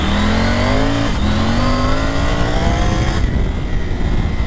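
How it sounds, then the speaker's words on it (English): A Triumph Tiger 900 Rally Pro motorcycle on Karoo 3 tyres accelerates hard on a damp road, its engine note climbing loudly through a rising rev sweep, dipping at a gear change, then climbing again before easing off, close and continuous. "Look at this acceleration"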